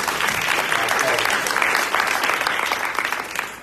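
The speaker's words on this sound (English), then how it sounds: "And I applaud him." An audience at a county summit gives steady applause, a dense, continuous wash of clapping hands at moderate loudness throughout, easing slightly at the close.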